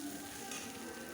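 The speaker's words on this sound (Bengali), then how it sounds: "মশলাটা ভাজা হয়ে গেছে, হালকা তেলও ছেড়ে দিয়েছে।" Spice paste with salt and turmeric fries in oil in a pan, a brief steady close sizzle with light stirring and no talk.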